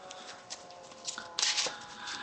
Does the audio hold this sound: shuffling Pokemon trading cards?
yes